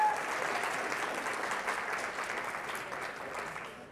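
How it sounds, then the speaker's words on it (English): Guests at a fundraiser breakfast applaud Bill and Ann, a warm, sustained round of clapping that is loud at first and then eases slightly in a room, heard alone without talk. "Big round of applause back there for Bill and Ann."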